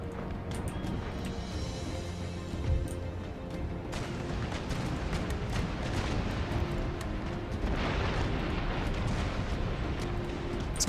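Naval cannons firing round shot in Empire Total War, heavy booming reports rolling one into another over a continuous roar of battle, loud and dense for the whole stretch.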